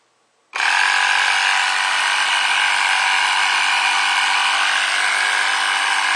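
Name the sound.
small DC compressor running on a solar power system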